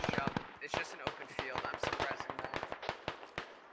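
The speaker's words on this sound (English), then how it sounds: "Rounds coming in." Incoming gunfire in the military shooter game Squad, a rapid stream of sharp cracks in bursts, fairly quiet and distant-sounding, with a voice talking over parts of it.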